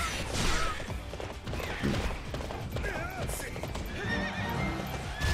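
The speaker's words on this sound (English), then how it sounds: "What an awesome horse." Rapid hoofbeats clatter steadily as the horse Epona gallops in Hyrule Warriors, with a whinny and game effects layered over the rhythmic clip-clop.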